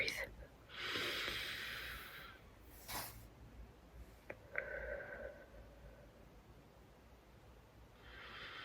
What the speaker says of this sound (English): Okay, let me breathe.